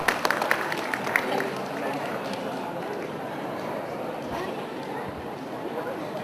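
A crowd at an Indonesian financial planning expo claps for a participant, with a brisk burst of applause at the start settling into a steady wash of crowd noise and a voice talking through it.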